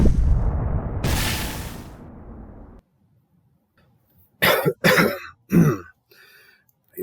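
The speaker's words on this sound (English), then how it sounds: "That was an explosion." An explosion sound effect in a fantasy audio drama booms loud and close at the start, a rumbling blast that decays over about two seconds into silence, followed by short bursts of speech.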